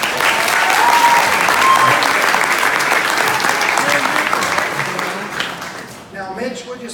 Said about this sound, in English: Give Mitch a big round of applause.